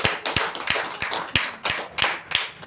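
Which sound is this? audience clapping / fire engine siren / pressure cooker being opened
audience clapping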